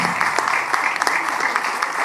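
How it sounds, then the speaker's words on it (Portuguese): Steady, dense applause from a seated audience fills a conference hall at the closing of the 23rd OIDP International Conference, loud and continuous with individual claps popping through. "peço uma salva de palmas, por favor."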